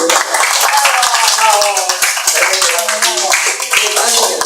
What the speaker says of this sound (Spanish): Y un aplauso entonces